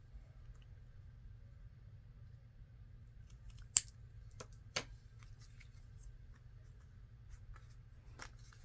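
Scissors cut paper library pockets with a few crisp, quiet snips, two sharper than the rest, over a low steady hum with no talking.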